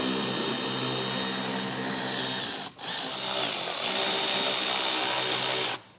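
A power tool whirs steadily while backing 8mm screws out of the rear fascia on a 2021 BMW 5 Series. The motor runs loud and continuous, dips briefly near the middle, then cuts off just before the end.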